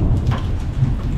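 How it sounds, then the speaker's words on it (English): A hailstorm with thunder rolls on, marble-sized hail drumming steadily in a dense, loud roar with low rumbling underneath and no talking. "The hail's getting worse."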